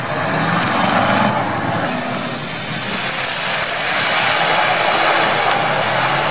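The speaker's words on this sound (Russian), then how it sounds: "Все, Шишига приехала." A GAZ-66 "Shishiga" off-road truck arrives at an off-road spot, its engine a loud, continuous roar that holds close and steady throughout.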